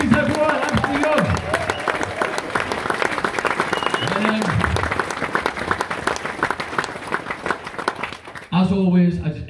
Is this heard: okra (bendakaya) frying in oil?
no